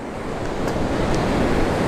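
Ocean surf rolls near the Fish Pass Jetties in South Texas, a continuous broad wash of breaking waves with some wind noise on the microphone.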